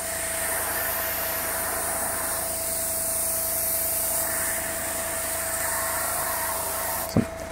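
An airbrush sprays thinned Vallejo Model Air paint in a steady, continuous hiss of air that holds level for several seconds, ending with a brief click near the close.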